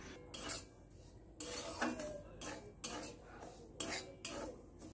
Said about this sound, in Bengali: গ্যাসের ফ্লেমটা লোতে রেখে সুজিটা আমি হালকা করে ভেজে নেব।